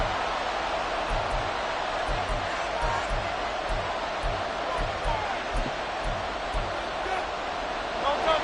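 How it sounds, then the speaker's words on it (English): Stadium crowd noise from a Madden football video game, a steady loud roar of spectators rising in volume during a third-and-long play, with low thumping beneath it and no voices standing out. "This crowd turning up the decibel level."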